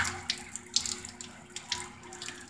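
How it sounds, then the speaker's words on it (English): Water running from a hose or tap into a flushed-out car radiator, a steady close splashing trickle with a few sharper spatters over a constant low hum. "we're gonna go ahead and put some water through it"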